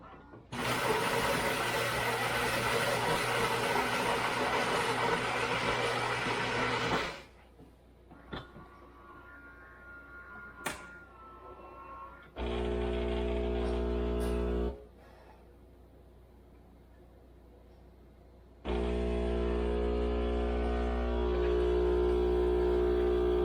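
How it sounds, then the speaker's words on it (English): A Philips 4300 LatteGo espresso machine brews a shot, a loud buzzing pump hum running in long stretches broken by quiet gaps with a few clicks and knocks; close and steady, no talking. "that's a shot of espresso"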